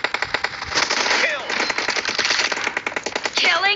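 Rapid automatic gunfire in the mobile battle royale game PUBG (BGMI), dense bursts of loud shots running nearly continuously, with a voice briefly heard between them.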